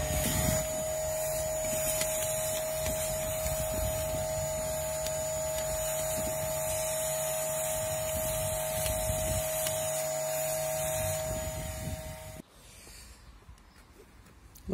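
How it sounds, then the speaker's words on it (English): An old Hoover vacuum cleaner whines steadily at close range, sucking loose carbon deposits from a diesel Lexus IS220 intake, then cuts off abruptly near the end, leaving faint room noise. "take an old Hoover and try and suck up any excess carbon"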